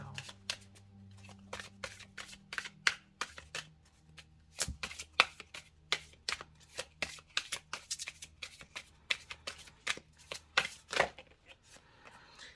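Oracle cards from the Ceccoli Oracle deck by Nicoletta Ceccoli shuffled by hand, a close, steady run of crisp riffling and flicking clicks throughout, with a low hum underneath.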